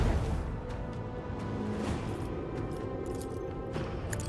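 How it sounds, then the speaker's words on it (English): Macro cannons on a void ship in Warhammer 40k: Rogue Trader fire as a dense, continuous roar of booming blasts, with sharper bursts near the start and end and no talk over it. "Let the macro cannons sing their deadly litany."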